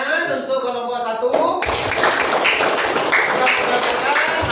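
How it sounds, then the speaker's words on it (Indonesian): Classroom clapping for a student group, a brisk burst of many hands that starts after a voice speaks briefly and then keeps going to the end. "kita beri tepuk tangan untuk kelompok 1"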